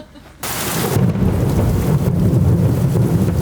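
A heavy storm of steady rain and rumbling thunder beats down around a boatyard where a sunken catamaran is being rebuilt. After a brief quiet start, a loud, dense downpour continues with no voices.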